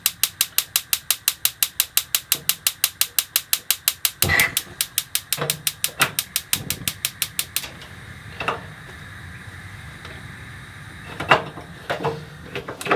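Rapid sharp clicking of piezo igniters on a caravan gas stove, a fast even train of ticks for several seconds, then slower scattered clicks and soft knocks as each of three burners is lit.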